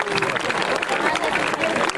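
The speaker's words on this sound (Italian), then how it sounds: "Un applauso comunque a Messer Ivan" Brief burst of outdoor crowd applause for a rider at the Giostra del Saracino historical jousting reenactment in Cormons, dense clapping with an announcer's voice over it.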